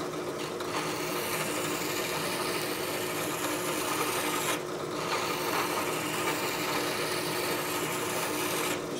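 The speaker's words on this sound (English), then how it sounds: "And just file it." A hand file rasps steadily across a stud on an MGB GT rear axle, a close, continuous scraping with a short break midway and no talk.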